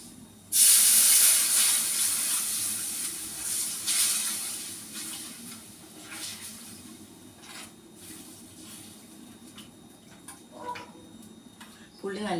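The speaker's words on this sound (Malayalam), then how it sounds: "ഇനി പുളിവെള്ളം ഒഴിച്ചു കൊടുക്കാം" Tamarind water poured into a hot pan of spices and turmeric over low heat, giving a loud burst of hissing steam that fades into a lower sizzle with faint clicks.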